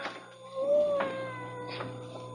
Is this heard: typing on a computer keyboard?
no